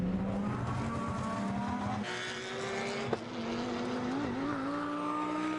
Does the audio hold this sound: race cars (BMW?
yes